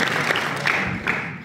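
An audience at the Alpes Aventure Motofestival 2023 prize event breaks into a brief burst of clapping, a short, fairly loud patter with a few sharper hand claps standing out.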